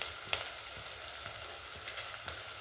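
Spinach and beans curry ingredients fry in a pan with a steady, close sizzle and occasional soft stirring taps and crackles; no voices.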